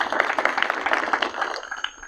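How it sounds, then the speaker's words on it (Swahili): Applause for an honoured guest at a Londiani school gathering, a steady crowd clapping of dense irregular hand claps that holds for about two seconds and thins slightly at the end, with no one speaking. "Tumpigie mheshimiwa makofi."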